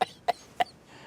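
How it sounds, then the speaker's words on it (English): Three short, sharp coughs come at an even, quick rhythm, close and fairly loud, in an otherwise quiet kitchen while hot habanero jerk chicken is being made. "that habanero must be hot because that water just made me cough"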